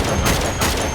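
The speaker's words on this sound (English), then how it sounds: "So I needed 7 shots to kill all of these snipers." Gunshots at snipers in Uncharted 2: two close, loud rifle cracks fired in quick succession, each ringing out briefly.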